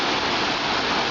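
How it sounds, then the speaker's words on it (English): Waterfall on Brandywine Creek in Wilmington, Delaware, on a day of mild current: a steady, dense rushing roar of falling water, close and loud, continuous with no voices. "Well, this is a different waterfall right here."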